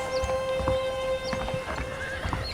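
Horses clip-clop and whinny in the Western video game Red Dead Redemption, with steady close hoofbeats, short rising neighs and a faint background tone.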